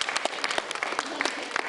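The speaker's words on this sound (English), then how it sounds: "So let's give you a round of applause." Brief, moderately faint applause from a group of young performers after a school dance show, a steady patter of many hands clapping for under two seconds with no talk.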